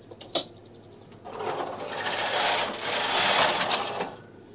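A Singer-type knitting machine carriage sweeps across the needle bed during a cast-on with only the side levers forward, giving a close, steady rasping run of about three seconds after a few light clicks.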